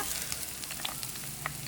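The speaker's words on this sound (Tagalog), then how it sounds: "Ayan, gisa-gisahin lang po natin" Garlic and onion sauté in a pan with a quiet, steady sizzle and a few light spatula clicks over a brief moment, with no voices.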